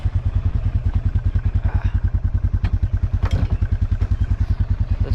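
A four-wheeler ATV engine idles close by with a fast, even, throbbing putter that holds constant throughout.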